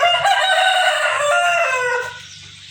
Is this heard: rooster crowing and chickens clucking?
yes